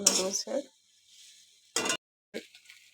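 Noodles stirred around a hot pan for a late-night snack, giving a few short, close scraping clatters of a utensil against the metal, separated by quiet gaps.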